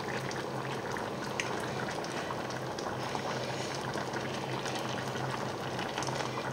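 Veal paupiettes and vegetables simmer in a pot, giving a steady bubbling boil that stays even and close throughout, with no pauses.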